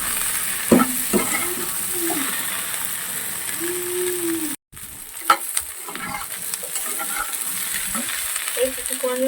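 Okra and potatoes frying in a pan are stirred with repeated scraping strokes over a moderate sizzle. The sound drops out for a moment midway, then the stirring and frying carry on.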